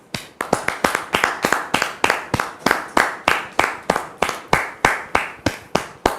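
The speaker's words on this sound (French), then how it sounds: "Merci donc de recevoir Dame Martine sous vos applaudissements" Steady rhythmic audience clapping welcoming a guest onto a stage, crisp and close, repeating in an even beat for several seconds like a small group clapping in time.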